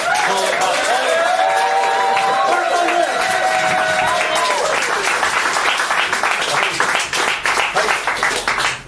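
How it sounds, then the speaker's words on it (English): Comedy club audience in Dublin applauding a stand-up comedian coming onstage, a dense sustained roar of clapping that thins into scattered individual claps toward the end, with a voice speaking over the start. "So, Martin, could you start clapping, please?"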